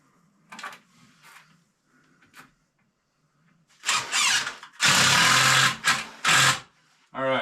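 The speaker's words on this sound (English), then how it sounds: "put in the screw through the wood at a pre-drilled hole" Power drill driving a screw through a pre-drilled hole in wood while building storage shelves: after quiet low handling noise and a couple of faint knocks, loud bursts of whirring and grinding come in several close bursts, ending with a short final burst.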